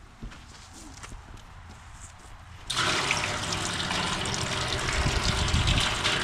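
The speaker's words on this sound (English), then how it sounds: "Let's pour off some of those ones kind of slow and see what happens." Maple sap is poured slowly out of a bucket that has an ice chunk in it. A soft trickle gives way to a sudden, loud, continuous gush of liquid about halfway through.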